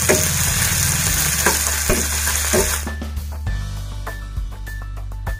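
Ginger, garlic and chili paste with green onion sizzling in a pan, loud crackling frying at first that turns sparser, with scattered clinks and taps as it settles.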